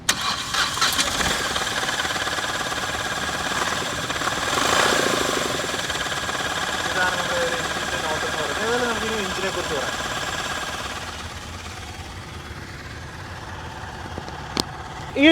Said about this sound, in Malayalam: എന്നതിന് ശേഷം നമുക്ക് വണ്ടി ഒന്ന് സ്റ്റാർട്ട് ചെയ്യാം